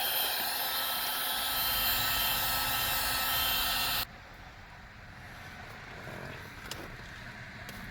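A heat gun warms the adhesive on carbon fiber dash trim in a BMW F10, a steady loud blowing roar that cuts to a quieter, thinner hiss halfway through.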